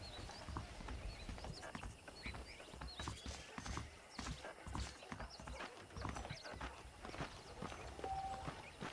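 Saddled horses in the Red Dead Redemption game plod along with steady clip-clop hoofbeats on dirt, continuous and moderately close, with a brief whinny and faint ambient background.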